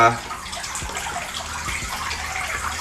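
Wet sphagnum moss squeezed by hand, releasing a close, steady trickle and gush of water that runs throughout.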